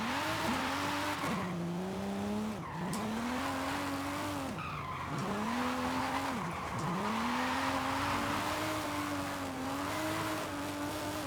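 All-wheel-drive car drifting in a racing video game, with a continuous engine note that rises and falls alongside tire squeal through repeated slides, loud and steady throughout with no talking.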